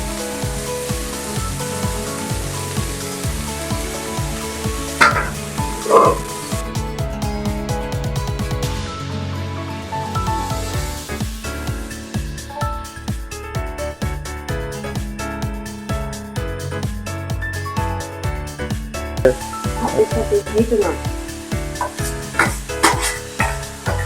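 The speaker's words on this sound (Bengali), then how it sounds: "তো হালকা আবারও তেল দিয়ে আমরা এটা ভেজে নিচ্ছি কড়াইতে" Mixed vegetables frying in oil in a wok for restaurant-style fried rice, a steady dense sizzle with constant stirring and scraping that runs without a break, close and fairly loud, with no voices.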